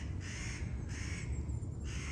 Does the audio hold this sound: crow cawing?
yes